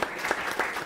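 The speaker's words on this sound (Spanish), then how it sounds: "un aplauso también" Brief audience applause at a panel talk on the future of creativity, with a burst of dense, even clapping from a seated crowd.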